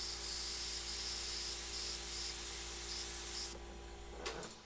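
An airbrush spraying paint onto a portrait gives a continuous soft hiss with faint intermittent higher tones, then thins out near the end into a brief light rustle.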